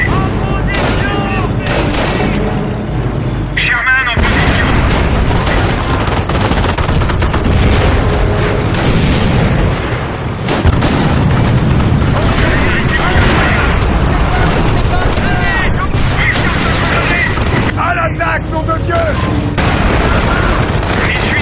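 Relentless gunfire, machine-gun bursts and heavy explosions pound through a Company of Heroes battle, loud and continuous, with shouted voices breaking through the din.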